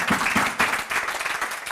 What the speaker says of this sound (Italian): ma un grosso applauso ai ragazzi